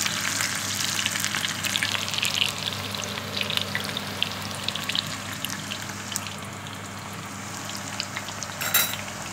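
Chopped cauliflower stems fry in hot oil in a pan, a continuous crackling sizzle with scattered pops and spits, steady and close throughout.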